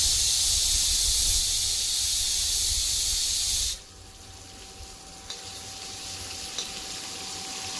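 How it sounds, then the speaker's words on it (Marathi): Pomfret fish fries in hot oil with a loud, close, hissing sizzle for the first few seconds, then drops abruptly to a softer, steady crackle with a few faint pops. "बघू शकता पापलेट फ्राय आपलं छान होत आहे"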